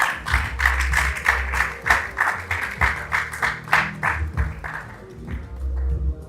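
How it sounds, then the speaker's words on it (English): A conference audience applauds as a speaker joins them on stage, clapping in a loosely rhythmic, pulsing pattern over low background music before the applause tapers off. "Please give him a round of applause as he joins us here"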